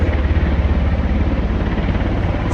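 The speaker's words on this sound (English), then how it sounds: "Oh yeah, a helicopter right above me." A helicopter passes close overhead, a steady low rotor throb and engine drone holding loud and continuous throughout, with no talking.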